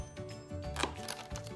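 A knife slicing through tofu on a cutting board, a few soft chops with one sharper tap near the middle, close and short with no talk.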